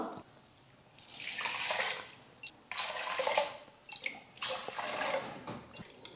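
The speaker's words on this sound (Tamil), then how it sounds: "ஒரு டம்ளர் அரிசிக்கு மூணு டம்ளர் தண்ணி சேர்த்துக்கலாம்" Water is poured into a pressure cooker holding rice and lentils for pongal, in three separate splashing pours with short pauses between them. The pours are fairly soft, and no one speaks.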